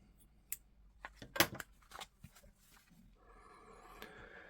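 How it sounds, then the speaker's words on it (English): Scissors snip through crochet yarn in a few quiet, sharp cuts, close by, followed by soft handling rustles. "now we can already cut the yarn"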